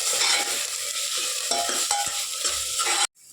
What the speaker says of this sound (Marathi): आता आपण याच्यात घालूया भाज्या भाज्या घालून याला मिक्स करून घेऊया